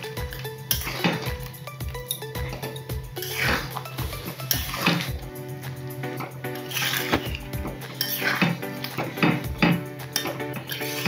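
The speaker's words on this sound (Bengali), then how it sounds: "কাজু আর টক দইটা পেস্ট দিয়ে ভালো করে মিশিয়ে নেব।" Cashew paste and sour yogurt are stirred into a chicken do pyaza in a cooking pan. A spoon scrapes and knocks against the metal repeatedly in an uneven rhythm, with occasional ringing clinks.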